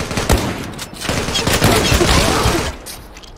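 Rapid gunfire in the Zula online shooter, bursts of overlapping shots crackling loudly for about three seconds, then dropping off.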